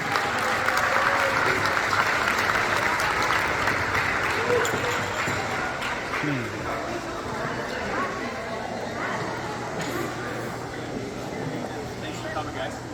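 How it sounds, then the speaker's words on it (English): Steady applause from the crowd at a minor hockey banquet honoring Shirley and Megan, a long, even wash of clapping mixed with chatter and voices in a large hall. "Everybody, let's hear a round of applause for Shirley"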